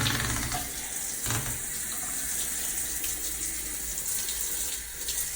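Water from a tap runs steadily while rinsing out a moldy shower after scrubbing with bleach-based toilet bowl cleaner, a continuous soft hissing splash with small fluctuations, faint and alone.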